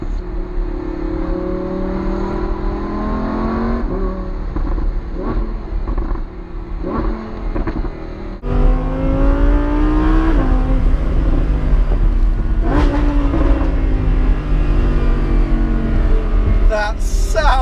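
Lamborghini Huracan Spyder engine running loud and close, with rising revs and a sharp surge partway through as it accelerates, steady throaty drone throughout.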